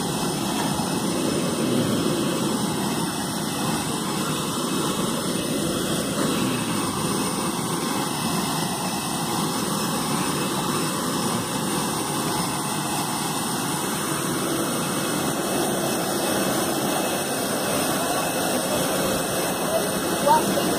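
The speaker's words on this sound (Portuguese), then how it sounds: "Parece que vai, o avião vai se embora." Steady roaring jet engine rumble of an Avianca airplane powering up for takeoff, continuous and fairly loud, with a faint whistling tone shifting over it.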